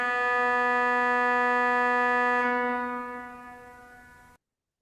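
A reed instrument like a harmonium sounds one steady, buzzy, harmonic-rich tone that holds for a few seconds, then fades and cuts off, alone and close.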